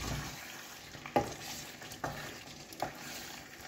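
Chicken pieces sizzle in a frying pan while being stirred, a continuous close frying hiss broken by three distinct scraping stir strokes, with no speech.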